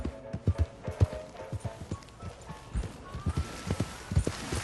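Rhythmic clip-clop of horse hooves at a gallop in the video game Red Dead Redemption 2, loud and close, with a brief whinny-like tone partway through.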